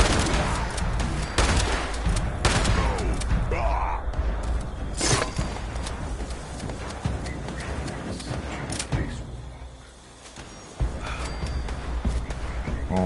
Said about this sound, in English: I just wanted it to feel like a normal shotgun.